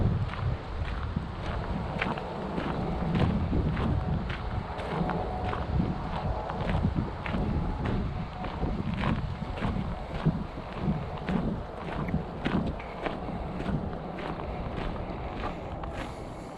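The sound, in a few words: wind blowing on a nature preserve walk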